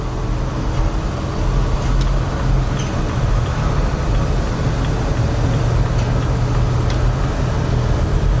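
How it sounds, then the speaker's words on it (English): Drone of a 2007 Mercedes Sprinter van with a new transmission accelerating on a highway at part throttle, a steady loud engine-and-road rumble that holds with little change throughout, no talk. "Last acceleration on the highway."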